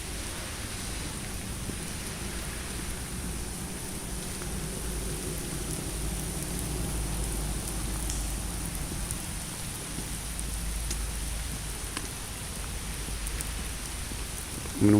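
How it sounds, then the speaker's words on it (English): Heavy rain pouring outdoors outside Carnegie Hall, a dense, steady hiss of drops that stays even and close throughout with no voices. "it keeps right on raining"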